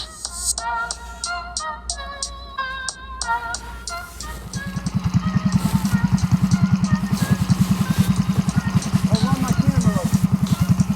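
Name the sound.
Coleman BT200X mini bike with Predator 212 hemi engine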